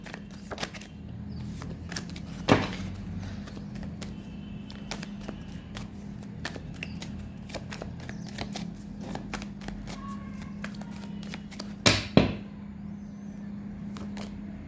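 A deck of tarot cards is shuffled, quick dry riffles and flicks of card edges repeating through a low steady background hum, with two louder bursts of handling.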